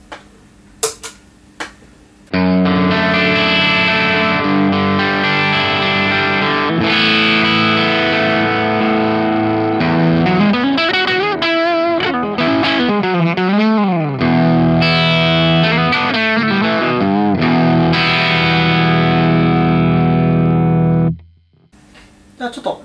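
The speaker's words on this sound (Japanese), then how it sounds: "では、ヒドラの方を弾いてみたいなと思います" A Les Paul electric guitar played through an Organic Sounds Hydra overdrive pedal rings out loud and distorted, with sustained chords and then a run of bending, vibrato-laden lead notes before the last chord is cut off sharply. No one speaks over it.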